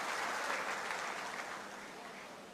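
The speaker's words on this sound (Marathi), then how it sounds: "आपण टाळ्या वाजवून त्यांचं सुद्धा मनापासून या ठिकाणी स्वागत करा." An audience at a political rally in Indapur claps in sustained, dense applause, fairly faint and distant, gradually easing off over a few seconds.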